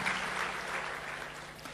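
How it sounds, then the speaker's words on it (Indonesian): A church congregation claps for Jesus during a sermon, a short, soft burst of many hands heard faintly and somewhat distant, lasting under two seconds. "Kita berikan tepuk tangan bagi Yesus kita."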